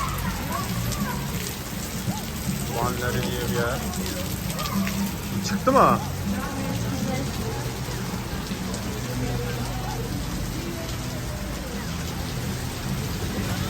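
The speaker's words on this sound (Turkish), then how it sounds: "Müthiş yağmura yakalandık." Steady heavy rain hisses and patters throughout in Batumi, with a brief louder burst midway and people talking briefly over it.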